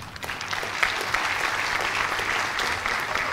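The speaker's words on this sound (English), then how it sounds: "Let us give them a huge applause" An audience at the Mizoram University G20 University Connect lecture applauds the international students as they stand, with dense, steady clapping that stays even and full from start to finish.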